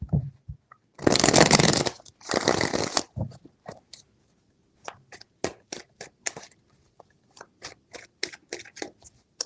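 Two bursts of riffling tarot card shuffles up close, followed by a scattered series of light taps and flicks as the cards are handled.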